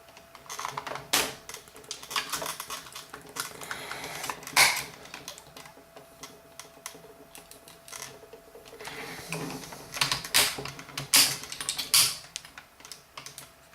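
Plastic parts of a Transformers Generations Unicron figure from the 25th anniversary line are adjusted and plugged together, producing close, irregular clicks and snaps in scattered bursts with short quiet gaps between them.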